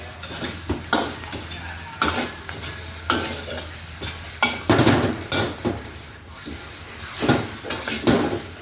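Mixed fried rice with shallots being stir-fried in a hot pan, sizzling steadily while a utensil scrapes and clanks against the pan in irregular strokes, close and alone.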